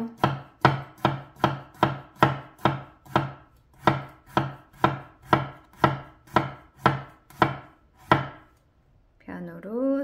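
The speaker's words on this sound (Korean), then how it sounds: "마늘을 한번 다져보도록 하겠습니다." A knife chops garlic on a cutting board in about fourteen sharp, evenly spaced knocks, close and crisp. The chopping stops and a voice begins to speak briefly at the end.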